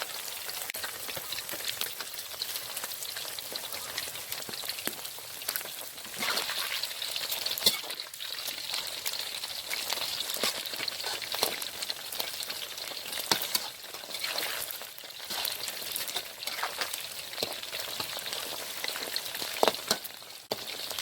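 About half a kilo of batter-coated chicken feet frying in hot oil, a steady close crackling sizzle with bursts of bubbling that runs for the whole stretch, with no speech.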